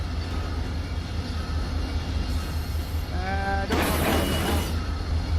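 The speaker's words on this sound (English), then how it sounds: "You can hear the brakes squeaking there." A short, high-pitched metallic squeal from the brakes of empty railcars in the Run 8 train simulator rises briefly, followed by a burst of hissing air, over a low rumbling background; a voice speaks once.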